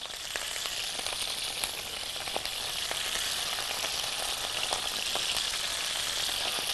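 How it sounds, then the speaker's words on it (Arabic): Whole sausages frying in a pan of hot oil give a steady, close, loud crackling sizzle that runs without a break, with small pops scattered through it and no voices. "عندي طاسة فيها زيت، وعندي السجق السليم بالشكل ده كده. يلا بينا ننزل منه حالا"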